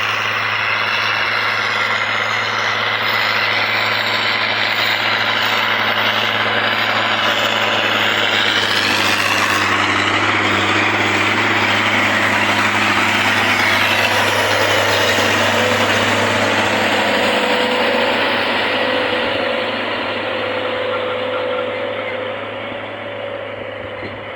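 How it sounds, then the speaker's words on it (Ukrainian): A KhTZ tractor with a Deutz engine, pulling a Polaris 8.5 cultivator in third gear over a field, runs steadily with a deep low hum and broadband rumble, close and loud throughout, easing slightly toward the end. "Значить, Трактор працює, передача"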